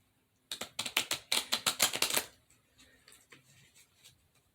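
A quick run of sharp, papery tarot card riffles, loud and close, about a dozen rapid snaps, then a few softer scattered rustles.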